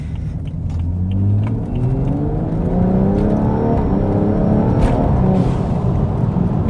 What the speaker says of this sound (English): the noises are awesome in this car